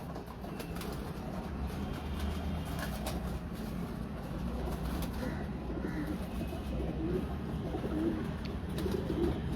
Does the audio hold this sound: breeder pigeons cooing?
yes